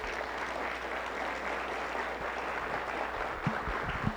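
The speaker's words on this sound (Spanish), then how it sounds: "Un aplauso otra vez para el doctor." Steady applause from an audience at a Mexican literary lecture, an even wash of clapping that holds throughout, with a few sharper claps near the end.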